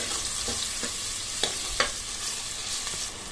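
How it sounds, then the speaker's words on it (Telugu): Finely chopped tomato pieces frying in a pan for a potato and brinjal curry, a steady close sizzle broken by a few sharp stirring taps and scrapes, with no talk. "ఆ తర్వాత సన్నగా కట్ చేసి పెట్టుకున్న టమాటా ముక్కలు కూడా వేసుకోవాలి"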